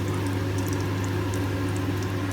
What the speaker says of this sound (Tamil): வந்து ஒரு 4 வரமிளகாய் பருத்தி சீரகம் படிச்சு போட்டுருக்கேன். இது பொரிச்ச உடனே